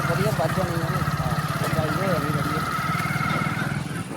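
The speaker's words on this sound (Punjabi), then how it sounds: "ਜਾ ਰਿਹਾ ਜੀ ਸਾਡਾ ਹਰਪ੍ਰੀਤ ਟਰੈਕਟਰ ਲੈ ਕੇ" A tractor engine drones steadily close by as it drives past, with voices talking over it.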